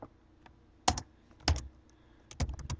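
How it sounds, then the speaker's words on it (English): Typing on a computer keyboard: a few close, quiet clusters of key clicks with pauses between them, ending in a quicker run of taps. "I'm going to want to type"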